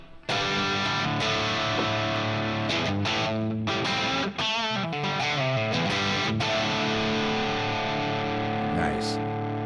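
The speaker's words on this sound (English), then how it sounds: "I also changed the reverb with the medium plate." Distorted electric guitar runs through a Fractal amp modeler with a Dyna-Cab and medium plate reverb, playing sustained chords and fast lines, loud and close, with a lingering reverb tail.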